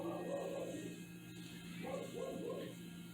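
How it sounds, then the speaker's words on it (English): A dog barks intermittently in the background, faint and distant, beneath a steady low hum and some nearby voices. "There goes the dog in the background."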